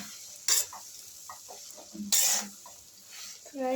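Chapati slices are stir-fried for chapati noodles. A quiet sizzle sits under two sharp bursts of spatula scraping against the pan and lighter intermittent stirring clatter. A voice is heard briefly at the end.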